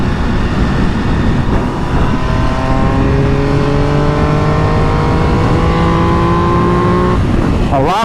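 Riding a 2022 MV Agusta Dragster 800 RR in race mode, the engine climbs loudly through the revs with rising whine over heavy wind roar, then drops sharply as the auto-blipper catches the shift near the end.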